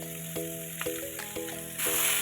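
Jackfruit and potato sizzle and fry in hot oil, a steady close hiss with soft stirring bumps and a low tonal hum running underneath, growing brighter and louder near the end.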